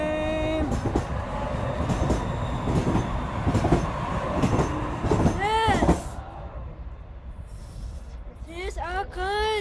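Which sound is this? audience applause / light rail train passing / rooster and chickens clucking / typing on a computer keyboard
light rail train passing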